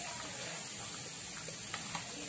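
Water poured into fish masala for a Tamil-style fish fry marinade, a soft steady splashing trickle close by with no talking.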